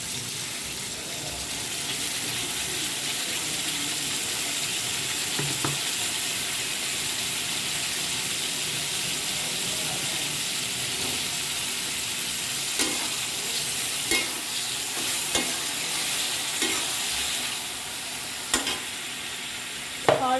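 Steady, close sizzling of spices tempering in hot oil for a brinjal chutney, continuous throughout, with a few faint clinks toward the end.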